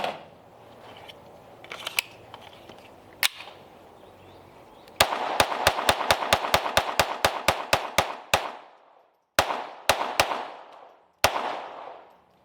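Sig Sauer P322 .22LR pistol firing CCI Mini Mag 40-grain rounds at an outdoor range: a few scattered sharp shots, then a rapid string of about a dozen evenly spaced cracks, followed by three or four slower single shots, loud and close.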